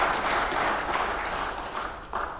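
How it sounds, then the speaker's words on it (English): Audience applause at a parliamentary committee hearing on fisheries and aquaculture, a dense, moderate patter of clapping that gradually thins before a brief louder burst near the end. "give him a round of applause"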